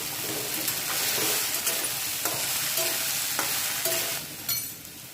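Cooked potatoes stirred and turned over in a pan on low heat, a steady sizzle with scraping spoon strokes at intervals, close and fairly loud, no voices.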